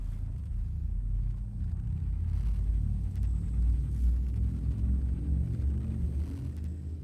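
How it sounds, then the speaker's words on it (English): A frame shift drive charging in Elite Dangerous, a deep, steady low rumble that holds continuously throughout, dense and loud beneath a faint high whine. "Frameshift drive charging."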